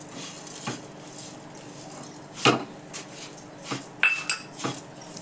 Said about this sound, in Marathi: आणि एकसारखं हलवून घ्यायचं जोपर्यंत साखर पूर्ण विरघळत नाही